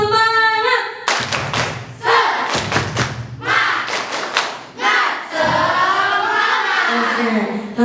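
Audience doing a rhythmic spirit clap (tepuk semangat) at a school Qur'an presentation, with sharp bursts of unison claps and thumps in patterned groups, shouted voices between them and a sung or chanted voice at the start.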